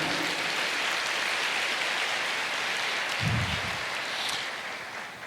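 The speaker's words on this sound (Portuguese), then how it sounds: "Pode aplaudir." A church congregation applauds in a steady, dense wash of clapping that holds for several seconds and then slowly eases off, with no talking over it.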